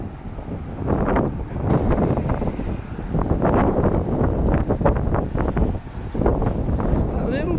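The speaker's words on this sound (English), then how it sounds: "bit of wind blowing right here" Gusty wind buffets the microphone outdoors along a city street lined with fast-food restaurants, a steady low rumble that swells and dips throughout and stays loud from start to finish.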